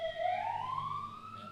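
Fire truck siren in a small Texas town, a single rising wail that sweeps upward and holds, moderately distant and clear with no talking over it.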